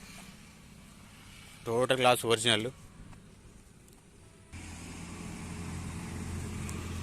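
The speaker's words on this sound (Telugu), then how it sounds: "మీకు ఇంజన్ సౌండ్ చూపిస్తాను." A 2014 Hyundai i10 Sportz petrol car engine settles into a low, steady idle hum during the second half, after a brief spoken remark over quiet background.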